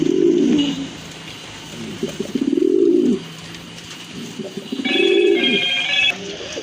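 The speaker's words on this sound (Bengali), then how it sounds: "এখানে কিন্তু দুইটা বোম্বাই কবুতর আছে অনেক বড় সাইজের কবুতর" Two large Bombay pigeons coo in low, throaty bursts that repeat in a steady rhythm, close to the recorder. Faint bright ringing tones sound briefly behind them.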